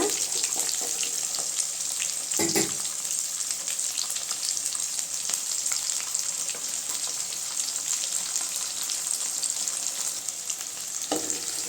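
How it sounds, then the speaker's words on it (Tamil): Onions and garlic fry in hot oil for mango vathal kuzhambu, a steady close sizzle with occasional stirring scrapes and clatter in the pan. "பூண்டு சேர்த்துக்கலாங்க வெங்காயம் நல்லா செவந்து வைக்குங்க"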